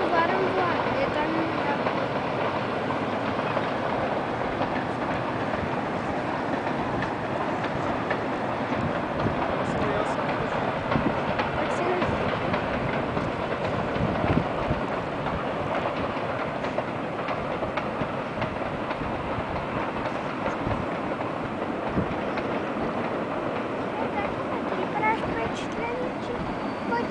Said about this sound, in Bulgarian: Това е товарен влак.